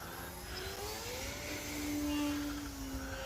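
A radio-controlled 3D Hobby Shop Edge 540 aerobatic airplane flies overhead with a continuous buzzing motor whine, its pitch rising and falling as the model maneuvers, loud and steady throughout.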